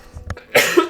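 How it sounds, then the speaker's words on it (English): A single sharp cough, loud and close, with a brief throat rasp before it. "Sorry about the coughing."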